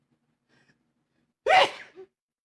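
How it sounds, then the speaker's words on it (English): A single sharp sneeze bursts out close by in near silence, followed by a brief breathy trailing sound. "You heard me sneeze."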